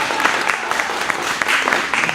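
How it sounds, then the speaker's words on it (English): Audience applause after an improvised storytelling and song performance, a steady close patter of many hands clapping together for a couple of seconds. "now please go ahead and applaud."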